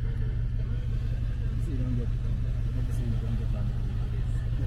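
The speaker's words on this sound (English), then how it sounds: "That thing sound like a V8" A Cobra sports car with a V8-like engine idles with a deep, steady, throbbing rumble close by, and voices talk faintly over the engine.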